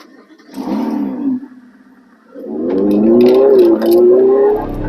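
A Ferrari 488 GTB engine cranks briefly with a short bark, falls quiet, then catches and roars into a loud, steady idle with a rising rev held close by.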